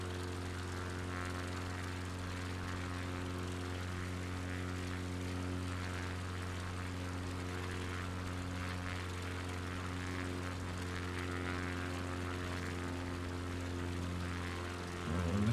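Propeller drone of an XCub bush plane in a flight simulator, a steady buzzing engine hum with strong stable harmonics that holds at an even level throughout, rising slightly at the very end.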